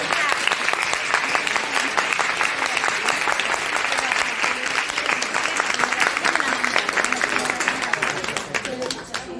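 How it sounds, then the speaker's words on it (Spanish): Audience at a school event applauding heartily, dense rapid clapping from many hands sustained for several seconds before tapering off at the end, with a few voices mixed in. "Un aplauso muy grande."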